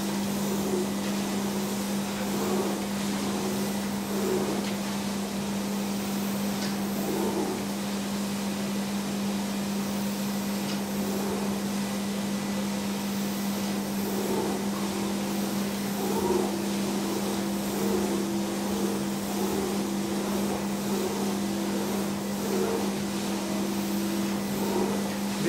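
Carpet cleaning machine with its wand passing over office carpet, a steady loud motor drone with a constant hum and faint rhythmic scrubbing.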